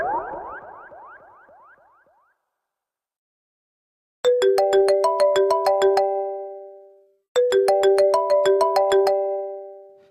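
A phone ringtone plays a bright, bell-like melody in two loud bursts of about three seconds each, separated by a short pause, following a fading voice.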